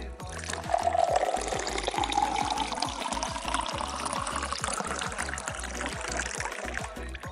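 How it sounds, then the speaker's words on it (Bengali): Gobindobhog rice is swished and rinsed in water by hand, giving a close, continuous sloshing and trickling with a steady series of soft rhythmic rubs and splashes throughout. "চালটা ভালো করে ধুয়ে নিব।"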